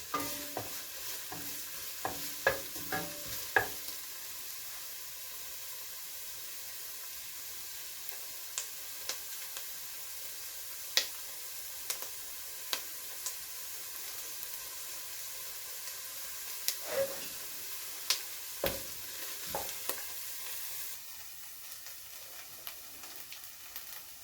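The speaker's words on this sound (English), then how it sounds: "So this is frying up very nicely" Corned beef and cabbage sizzles steadily in a pan while a utensil scrapes and clinks against it now and then. There is no talking.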